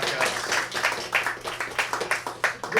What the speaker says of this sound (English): Give your panelists a round of applause